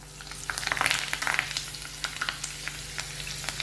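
Spices crackle in hot oil for a tempering (phodni) for tomato chutney, a soft hiss broken by sharp popping bursts that thin out toward the end, heard alone without talk.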